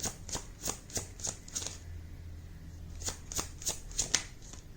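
Tarot cards shuffled by hand in a quiet room, a run of crisp riffling bursts in two clusters with a short pause between, close and fairly loud with no talking.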